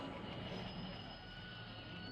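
A train pulls into a station as a sound effect in a Tulu stage drama, giving a continuous low rumble of rolling railway cars with a squealing wheel tone held over it, fairly quiet and with no voices.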